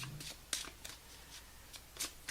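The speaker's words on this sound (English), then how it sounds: "One more shuffle off the top of the deck." A deck of tarot cards being shuffled in quick riffling bursts, several short crisp flutters spaced irregularly, close and moderately quiet with no talk.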